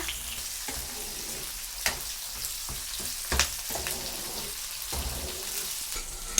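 Curry leaves sizzling in hot oil in a pan, a steady broadband hiss with brief crackling pops and a few louder spits, close and continuous with no talking.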